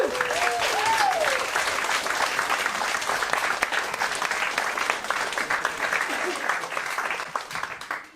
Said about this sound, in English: Please, a big round of applause for our next storyteller